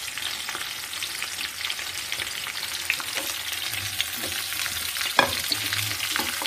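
Jaggery melting into hot oil with whole spices and garlic, frying in a steady broad sizzle with faint stirring scrapes and one sharp clink near the end, no voices.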